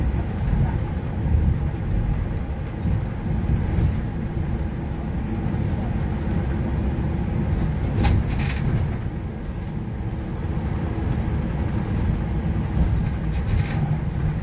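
Steady engine rumble and road noise from inside a bus travelling to Helsinki in cold, snowy, windy weather, a continuous low drone with faint rattles, unchanging throughout.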